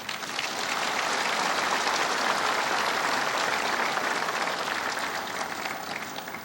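A large crowd at the national Memorial Day ceremony in Korea, the 64th observance, gives a sustained, dense round of applause that stays steady and loud throughout, then eases slightly at the end.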